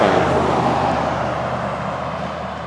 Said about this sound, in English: we're right on the side of a big, busy highway